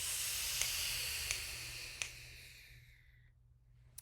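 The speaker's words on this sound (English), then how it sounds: "hold it and hiss like a cat here." A long, steady hiss of breath pushed out through the teeth, like a cat hissing, fading away after a few seconds with faint clicks.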